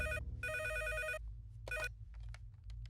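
A telephone bell rings loudly and clearly in a dramatic film scene: two long trilling rings and then a short third burst, over a steady low background hum.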